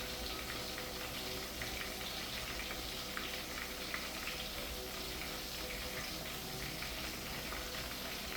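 Freshly chopped vegetables sauté in a hot pan with a steady, dense sizzle that stays even and close throughout, with no talk.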